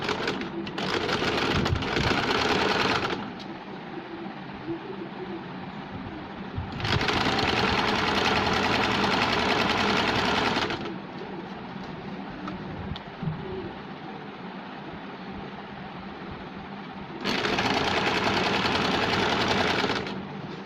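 A sewing machine stitches along the smaller layer of a double-layer top in three loud, steady bursts of whirring, separated by quieter pauses and stops.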